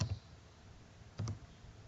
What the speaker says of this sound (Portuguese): Então vou digitar aqui a senha, né, que eu criei.